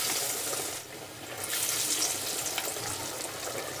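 Horse gram vada fry in hot oil with a steady, close hiss and sizzle that dips briefly and then swells again, with no voices.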